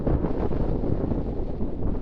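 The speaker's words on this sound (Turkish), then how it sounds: "Rüzgar çıktı." Steady broadband wind roaring and buffeting a microphone in an open field, continuous rumble with no pauses, fairly loud, no voices.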